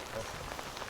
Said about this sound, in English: as the rain starts